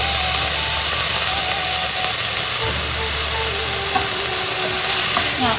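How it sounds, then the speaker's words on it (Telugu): Drumstick pieces frying in a pan with browned onions for a drumstick egg curry, giving a steady broad sizzle with faint stirring scrapes and a low background hum throughout, with no speech. "ఇప్పుడు ఉల్లిగడ్డలు బ్రౌన్ అయినాయి కదండి. ఇప్పుడు మునక్కాడలు వేసుకోవాలండి."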